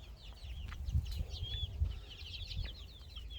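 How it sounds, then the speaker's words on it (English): A group of baby chicks in a temporary coop for silkie chickens peep and cheep softly in quick, overlapping high calls, faint and close, with a few low bumps underneath and no talking. "Right here, we have a group of baby chicks."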